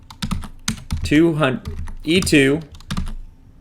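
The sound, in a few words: typing on a computer keyboard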